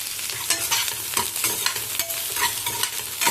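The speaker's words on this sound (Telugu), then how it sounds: "ఇప్పుడు మనం ఇందులో ఆనియన్స్ వేసుకుందాం" Chopped onions tossed onto roasted garlic in a hot pan crackle into a lively sizzle, with close scraping stirs breaking through the steady hiss and no one talking.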